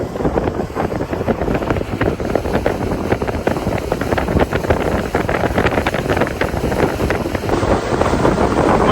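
A bass boat's outboard motor runs at about half throttle, a steady loud drone with heavy wind buffeting on the microphone and water rushing beneath the hull throughout.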